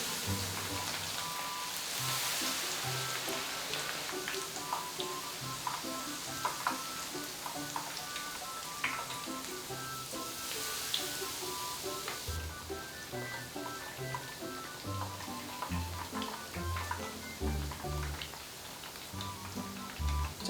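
Udo shoots, a wild mountain vegetable, frying as tempura in hot oil: a dense, continuous sizzle and crackle with scattered pops, steady throughout and close by.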